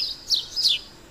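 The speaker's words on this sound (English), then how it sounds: "Bird." A small bird gives two quick, bright chirps close by, each lasting a fraction of a second, with near silence around them.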